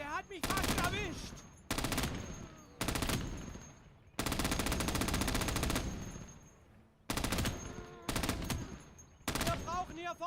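Machine gun fire in the Gates of Hell war game, tanks on the field: long, loud sustained bursts broken by short gaps, with German voices shouting between and over the firing.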